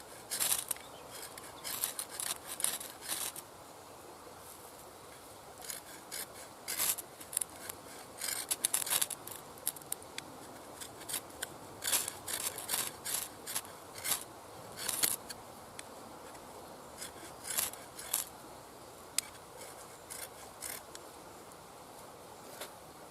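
The spine of an ESEE 6 knife scrapes down a ferro rod outdoors in many quick, sharp strikes, some clustered in bursts and others spaced apart, fairly quiet and close, with no talking.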